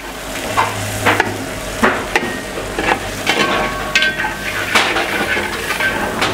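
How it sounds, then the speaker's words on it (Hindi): Mixed vegetables of cauliflower, carrot and beans sauté in a pan with a loud, continuous sizzle, punctuated by repeated scraping and clinking strokes of a spoon stirring against the metal. "इस सब्ज़ी को भी मैं इसके साथ में सौते कर लूँगा"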